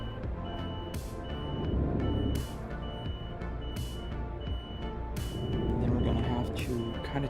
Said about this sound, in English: we're parking, so I have to reverse, and reversing means beeping.